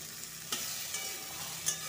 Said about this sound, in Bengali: টমেটোটা দিয়ে ভাজবো, টমেটোটা একটু গলা গলা মতো হয়ে যাবে।